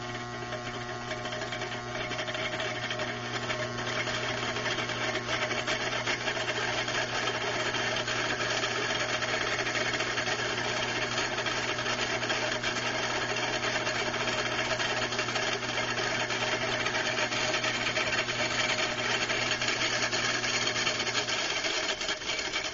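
A homemade AC motor with a second rotor installed runs steadily with a constant electrical hum and whirring drone that holds level and fairly loud throughout, with no talking.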